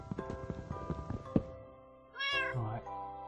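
A cat meows in the Minecraft video game, a clear harmonic cry near the end following a stretch of clicking and game background sounds.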